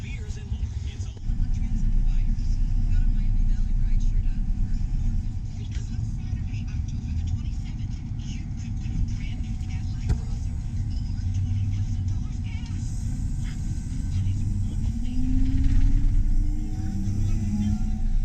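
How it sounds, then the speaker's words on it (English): A combine harvester carrying an 8-row corn head travels down a quiet back road during a corn harvest, giving a steady, close, low engine rumble that swells and eases slightly over time. "Since I'm taking the 8-row head and the combine down the road"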